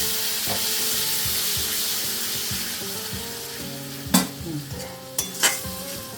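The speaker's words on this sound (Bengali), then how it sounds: "এবার একটু জল দিয়ে দেবো" Masala for a prawn and jackfruit curry sizzles in a pan, then water goes in, with two sudden loud bursts of hiss and spitting over the steady frying and stirring.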